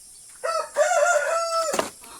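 A rooster crows once, a single loud, near, drawn-out cock-a-doodle-doo lasting over a second and ending in a rough break, heard among chickens with little else around.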